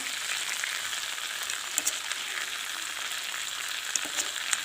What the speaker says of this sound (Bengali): টমেটো বাটা করে রেখেছি গ্রেভি করার জন্য হচ্ছে দিয়ে দিচ্ছি এখানে